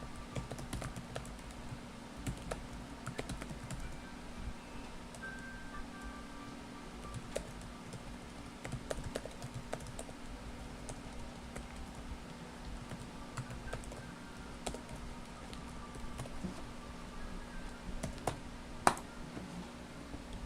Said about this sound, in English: I just need to type this